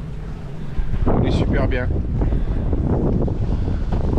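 Steady wind rushes past a sailboat under way at four to five knots off Piana, Corsica, as it builds. The roar runs loud and continuous with a short voice speaking over it.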